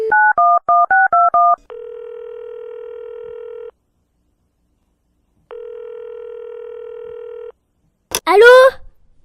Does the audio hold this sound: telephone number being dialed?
yes